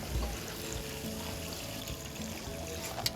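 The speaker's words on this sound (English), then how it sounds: "Now I just want to add the water." Water pouring steadily into a pot, a soft continuous splashing gush close by, fairly quiet, with a faint clink near the end.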